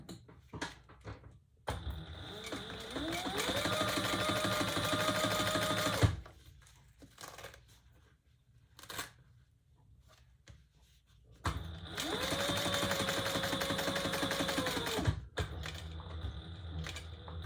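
A sewing machine stitching a leather tote bag, running in two sustained bursts of rapid stitching with pauses of small handling clicks between them, close and clear without speech.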